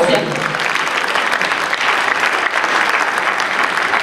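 Loud, dense applause from an audience at a dance event, continuous clapping that fills the whole moment without a break.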